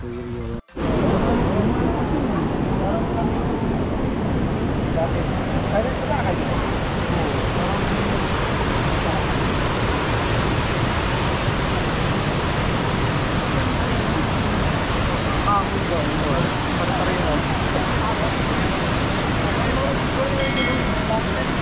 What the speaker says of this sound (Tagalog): nandito na kami sa may Elbow Falls Trail